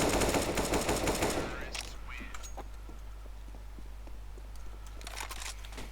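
Gunfire in Counter-Strike: Global Offensive, a dense burst of rapid shots loud at the start, then fading to scattered faint reports and clicks over a steady low hum.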